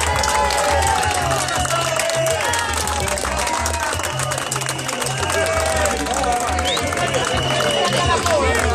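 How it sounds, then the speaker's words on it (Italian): Crowd at a bar applauding and cheering steadily throughout, a dense wash of clapping mixed with shouts and chatter. "Un applauso per lui."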